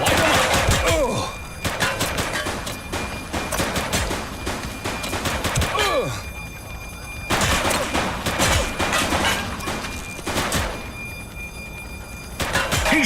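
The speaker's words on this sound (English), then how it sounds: "He's shooting!" Gunfire in a police shootout in The Precinct, set in Averno City: dense bursts of rapid automatic shots in several loud volleys separated by short pauses, close and dominant.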